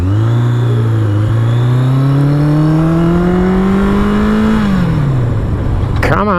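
A Yamaha XJ700 Maxim motorcycle engine pulls hard under acceleration, its loud rising drone climbing steadily through a gear before dropping off, recorded close from the rider's position with wind noise.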